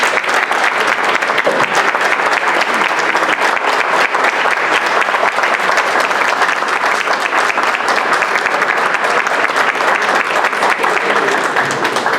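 Sustained applause from an audience at an opposition commission meeting, dense and steady clapping throughout at close range, with no pauses and only faint crowd murmur underneath.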